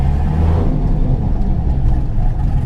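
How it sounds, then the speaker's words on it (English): Trans Am running on a dyno, giving a loud, steady engine rumble with slight revving swells that holds close and continuous over the short stretch. "Trans Am still up on the dyno."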